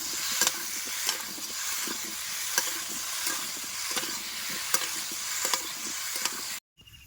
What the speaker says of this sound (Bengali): হলুদ দিয়ে কুমড়ো ভালো মতনই কষায় নিচ্ছে